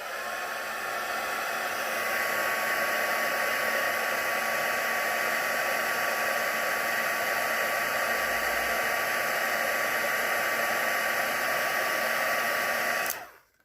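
A heat tool runs continuously on a watercolour Christmas card, a steady blowing whoosh like a hair dryer holding level for about thirteen seconds before cutting off abruptly.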